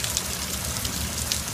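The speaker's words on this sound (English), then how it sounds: "you are looking at rain" Rain falling during a storm, a dense steady hiss of drops spattering on surfaces, close and continuous with no voices.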